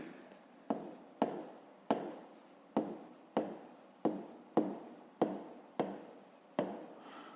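A pen scratches across paper as a math solution is written out, about a dozen crisp, evenly spaced strokes, each fading quickly, heard up close and alone.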